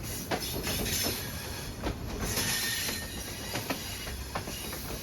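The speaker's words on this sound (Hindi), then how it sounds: "गोलरा स्टेशन पर स्टॉप करने के लिए ट्रेन मेन लाइन से लूप लाइन पर डाइवर्ट होती हुई ट्रैक शिफ्टिंग के दौरान ट्रेन का साउंड और भी मज़ेदार लगने लगता है" Awam Express shifting from the main line to the loop line at Golra station: a continuous close rumble of rolling wagons with clattering wheel clicks over the points and some thin squeals, with no speech.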